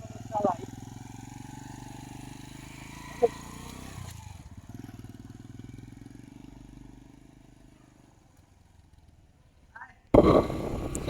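Yamaha YBR motorcycle engine idling after a full engine refit, a low steady throbbing rumble that fades to near silence before a sharp loud burst at the end, with a few isolated clicks.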